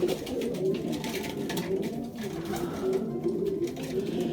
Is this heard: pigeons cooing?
yes